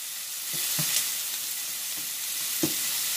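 Beyond Burger patties sizzling steadily in a hot pan, with a few soft scraping thumps as they are flipped, close and moderately loud with no talking.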